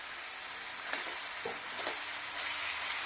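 Cabbage and green peas sauté in a pan, hissing in a soft steady sizzle with a few muffled stirring knocks, quiet and close, with no voices.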